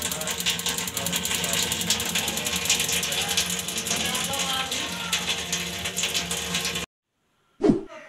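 Gas geyser igniter clicking rapidly and continuously while the flame fails to catch, a close, loud mechanical ratcheting that runs for several seconds, then stops before a brief final burst.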